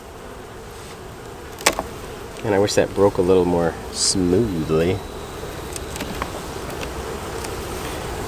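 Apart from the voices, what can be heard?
honey bees buzzing around hive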